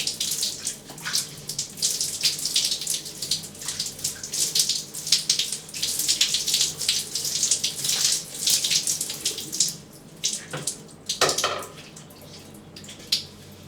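Tap water pours steadily into a basin during a Muslim ritual washing, a continuous bright splashing hiss with brief breaks and surges near the end, close and alone without talk.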